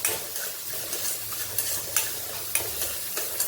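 Garlic and curry leaves sauté in hot oil with a steady close sizzle, broken by regular scraping knocks of a spoon stirring the pan.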